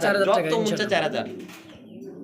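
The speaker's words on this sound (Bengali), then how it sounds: "কবুতরগুলো দেখেন" Lahori pigeons coo softly while someone talks over them, his voice dominating the short stretch and the low cooing fading out near the end.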